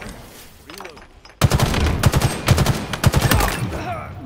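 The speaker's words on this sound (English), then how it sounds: "Nothing satisfies like a three-round burst." Gunfire from a three-round burst rifle in the Halo Infinite shooter game, a loud run of sharp rapid shots grouped in quick bursts after a quieter lead-in, with a voice heard at the start.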